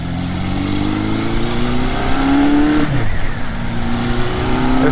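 A 1970 Honda CB500 motorcycle engine revs up loud and close on a test ride, its rising pitch climbing through the gears with a brief dip near the middle before pulling hard again.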